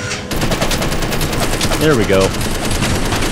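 A machine gun in Space Engineers fires a long, steady automatic stream of rapid shots, loud and close, while someone speaks briefly over the rattle partway through.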